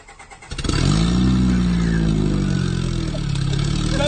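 A car engine cold-starting loudly: a brief cranking, then a sudden roar that settles into a loud, rough, high idle, close and steady.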